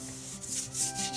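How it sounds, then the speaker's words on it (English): Fry bread dough and flour are scraped from the wall of a mixing dish, a close, quiet rubbing and scraping that carries on for about a second without any talk. "Scrape the dish because we don't want to waste any of this."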